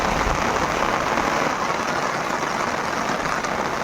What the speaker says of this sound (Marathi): खूप सारा पाऊस पडतोय